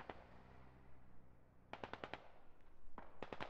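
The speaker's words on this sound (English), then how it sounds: "Trying to put some kind of suppressing fire down." Automatic gunfire lays down suppressing fire in the military shooter game Squad, heard as two short, sharp bursts of rapid shots against a quiet background.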